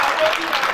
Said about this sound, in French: Applaudissez fort pour Kassim.